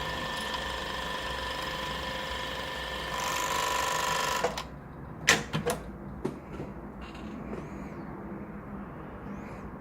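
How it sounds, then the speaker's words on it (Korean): An industrial overlock sewing machine, the MS-880EXD, runs a test seam with a steady loud whir for about four seconds, then stops, followed by several sharp clicks and clunks of handling. "이제 테스트 재봉을 해보겠습니다."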